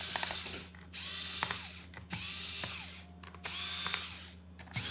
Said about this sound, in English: we're going to start taking the bottom screws off so we can take the bottom cover off